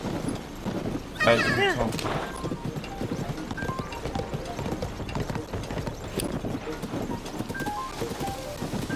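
Horse hooves clip-clop steadily in Zelda Tears of the Kingdom, a continuous trotting patter running under someone speaking French.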